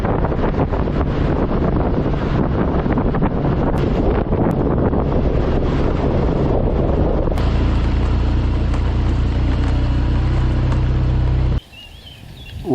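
Riding a small rental scooter on Terceira Island in the Azores, with steady engine drone and heavy wind buffeting the microphone throughout, loud and continuous, cutting out abruptly near the end.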